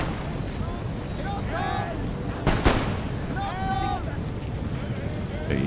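Troops opening fire in Empire: Total War, a sharp volley crack with booming gunfire amid a constant battle rumble and faint tonal calls.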